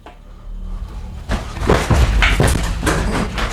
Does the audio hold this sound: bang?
yes